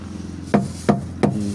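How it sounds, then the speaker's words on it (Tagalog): A big hammer strikes four times at an even, moderate pace, each blow a sharp, close, loud impact over a low steady hum. "Kaning martilyo nga dako."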